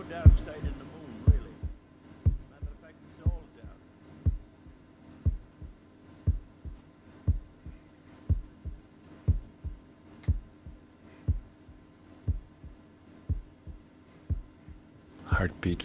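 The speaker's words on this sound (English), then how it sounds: "Heartbeat fade out." A heartbeat from Pink Floyd's Dark Side of the Moon thumps in slow, regular low pulses, steady and moderately loud, with brief sounds at the start and end.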